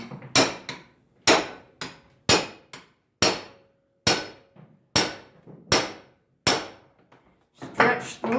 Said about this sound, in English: So now I'll take this punch and hammer here.